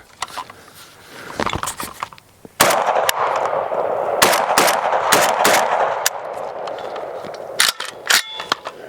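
A Saiga 12 semi-automatic shotgun fires Remington shells outdoors, about five or six sharp, loud blasts in an uneven sequence, with action clatter and faint echoes between shots.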